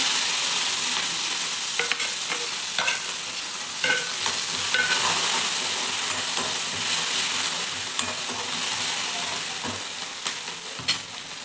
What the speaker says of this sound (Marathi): तेल व्यवस्थित गरम झालंय आपण जिरे मोहरी टाकून घेऊ चमचाभर मोहरी चमचाभर जिरे आणि वाटून घेतलेली हिरवी मिरची